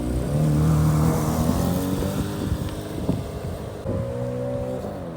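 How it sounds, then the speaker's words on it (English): Chevrolet C8 Corvette fitted with a Lemans Edition center exhaust, a loud, close engine note that swells and settles through revs, with steady low rumble and wind noise over the microphone. "let me know what you think of the look and sound of the Lemans Edition exhaust"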